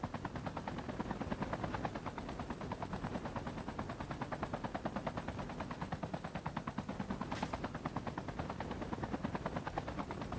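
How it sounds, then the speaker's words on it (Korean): Helicopter rotor from the Call of Duty Mobile battle royale, a loud steady rapid chop filling the whole stretch, with a brief sharp hiss near the end and no talk. "내가 헬기 운전 그거를 면허를 따지는 못했어요"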